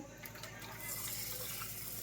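Water is poured into a pot while an empty masala packet for shipi aamti, a bazaar-style curry, is rinsed out. It makes a soft, continuous trickle and splash throughout the short stretch, fairly quiet and close.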